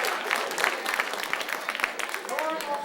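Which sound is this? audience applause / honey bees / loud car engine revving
audience applause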